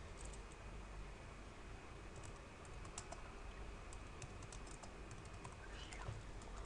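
Fingers type on a computer keyboard while a Google Classroom post is written, a rapid, fairly quiet patter of clicking keystrokes over steady room noise.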